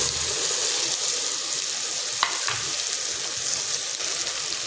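Chopped sponge gourd frying with spices in a pan on high flame, a steady loud sizzle with a couple of brief stirring knocks.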